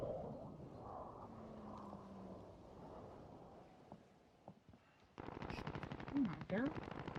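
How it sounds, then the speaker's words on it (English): A sentry gun in Call of Duty Warzone rattles off a rapid burst of automatic fire near the end, louder and denser after a quieter stretch with scattered thumps and a low background. "It's a sentry gun."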